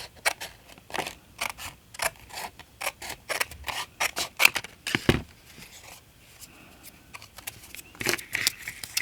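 Scissors snip through paper in a series of short, crisp cuts while making paper doll clips for junk journals, close and fairly quiet, with light handling rustles between cuts and no talking.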